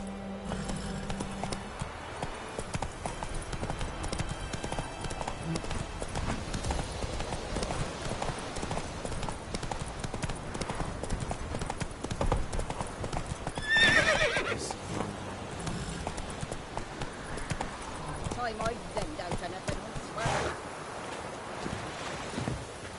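Hooves of the horse Roach clip-clop steadily through a game soundscape in The Witcher 3, with a neigh rising around the middle amid a continuous dense background of music and ambience.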